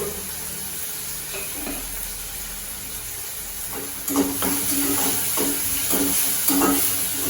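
Onions sauté gently in a pan for ragi rava upma, a close, continuous sizzle with a hiss underneath, growing louder partway through as rhythmic scraping stirs begin and repeat.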